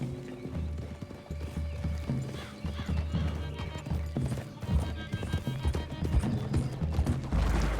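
Horses walking in Red Dead Redemption 2, their hooves clip-clopping steadily over a continuous music score, with an occasional whinny breaking through near the end.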